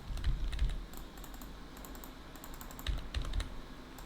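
Typing on a malfunctioning computer keyboard: bursts of clattering key presses come in two clusters, with rapid clicks and heavier thumps close to the mic and quieter gaps between them.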